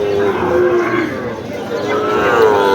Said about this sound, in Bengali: আসলে ছোট ছোট বাছুর যারা ডাকছে